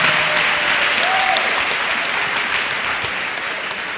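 Church congregation applauding Jesus Christ, a loud, dense burst of clapping that continues steadily and tapers slightly toward the end.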